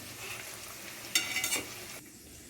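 Cabbage Manchurian balls frying in hot oil, a quiet steady bubbling sizzle close by, with a brief louder burst of spattering as they are turned.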